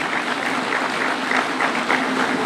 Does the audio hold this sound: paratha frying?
no